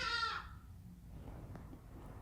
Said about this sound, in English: That bird was super loud.